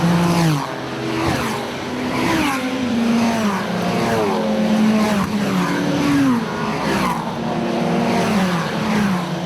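Carbon fibre Praga R1 race car driven hard in wet qualifying, engine note rising and falling through repeated gear changes and revs, loud and continuous with a passing, whooshing character.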